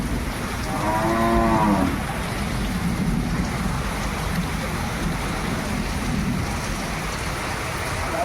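A calf sheltering from the first Konkan monsoon rain gives a single drawn-out moo near the start, heard over the steady, close hiss of wind-driven rain that continues throughout.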